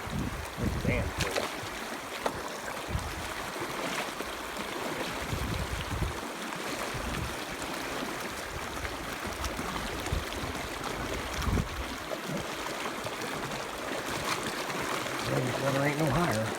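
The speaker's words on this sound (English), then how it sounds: "we gotta cross the Snake River again" Wading across the cold, flowing Snake River in Yellowstone National Park, with a continuous rushing babble of water, splashes from steps, and someone talking briefly over the steady current.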